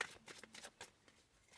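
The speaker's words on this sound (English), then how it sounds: "I need to shuffle a little bit more" Tarot cards being shuffled by hand during a Libra reading, a quick run of soft papery riffles and flicks close to the microphone, faint and steady with no voices.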